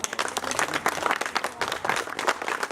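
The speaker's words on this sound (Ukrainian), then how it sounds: "Під ваші бурхливі оплески запрошуємо випускників 9 класу 2016" Brisk clapping from a school audience welcoming ninth-grade graduates at a 2016 graduation ceremony, dense and lively applause filling the room without pause.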